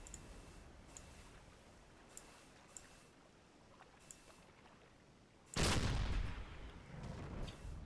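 A U-boat deck gun in a naval video game fires at a ship's waterline: a few faint, sharp distant reports at first, then one loud heavy blast with a rumbling tail.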